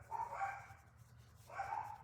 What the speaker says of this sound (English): They bark all the time.